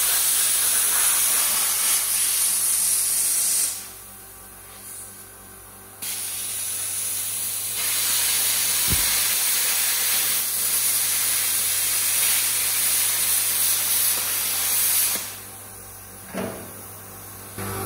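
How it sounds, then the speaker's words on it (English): Plasma cutter slicing through metal in a workshop, giving a loud continuous hiss in long bursts separated by short quieter pauses, with no talking. "the plasma just slices it off like a knife through hot butter"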